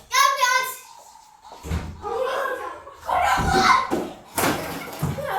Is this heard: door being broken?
yes